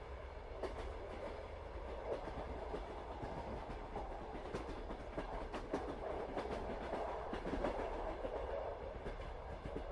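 Night train rolling steadily through winter, a continuous rumbling carriage drone with repeated clickety-clack wheel beats over rail joints, heard from inside the carriage at a soft, even level.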